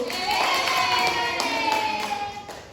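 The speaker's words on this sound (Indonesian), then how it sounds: "Sekarang kita beri aplaus dulu." A classroom group claps in applause for group A, a dense, steady burst of many hands close by that holds for a few seconds and then tapers off, with faint voices mixed in.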